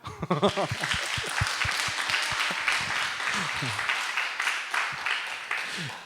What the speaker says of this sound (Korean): 우리 격려하는 박수 한번 할까요?